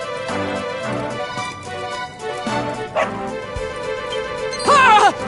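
Short dog barks and yips from the Dragon Quest 11 video game, a few sharp calls over steady game music, with a brighter yelping burst near the end.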